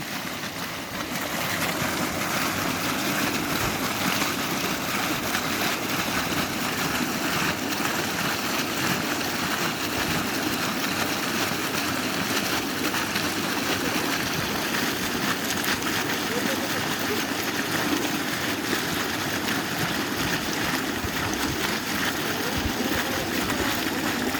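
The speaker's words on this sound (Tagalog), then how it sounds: "Grabe yung pagbulusok ng tubig, sayang." Water gushes steadily and forcefully from a burst pipe, a loud continuous rushing roar that fills the whole stretch without pause.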